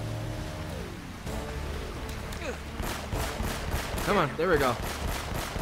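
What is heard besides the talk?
gunshots from a video game, Uncharted: Drake's Fortune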